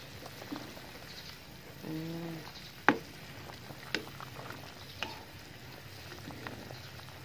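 Gentle bubbling and soft popping from a simmering pot of nilaga stew with meat and jackfruit, with a few sharp clinks and taps of a utensil against it.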